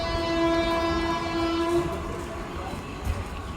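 Bhagirathi Express leaving Palashi station sounds a loud, sustained horn for about two seconds, then fades into a low rolling rumble of the moving train.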